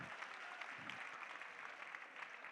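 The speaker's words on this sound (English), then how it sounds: "Give them a round of applause." An audience claps at a charity auction after an item sells, a faint, even patter of applause at a distance with no one speaking over it.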